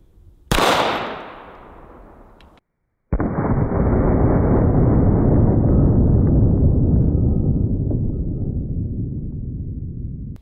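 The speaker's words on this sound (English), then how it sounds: "We're gonna start with the 9mm and we're shooting it out of the Canik" A single 9mm shot from a Canik TP9 SFX pistol, fired at homemade body armor outdoors: one loud sharp crack that decays over about two seconds, then a long, steady roar of wind or rumble that slowly fades.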